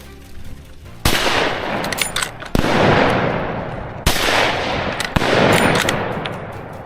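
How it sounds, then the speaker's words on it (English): Hunting rifle shots fired at a herd of wild boar in an open field near a forest: four sharp, loud cracks at uneven intervals, each trailing off in a long rolling echo. "I waited for the right moment and pulled the trigger decisively."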